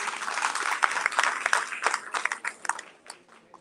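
A crowd at a distinguished lecture event applauds with steady, dense clapping that tapers off toward the end.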